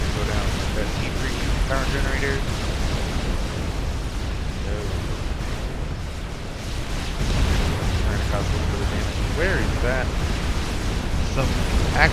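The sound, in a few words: explosions and artillery fire in video game Supreme Commander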